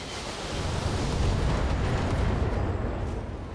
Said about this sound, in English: I love to cause major explosions.